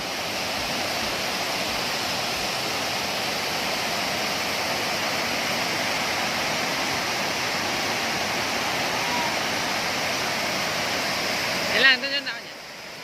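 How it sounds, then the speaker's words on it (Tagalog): Hulugan Falls in Laguna with high water drops hard and roars as a loud, steady broadband rush that lasts almost the whole time. The roar cuts off briefly near the end. "Yan po ay isang pagagandang falls sa Laguna lang matatagpuan."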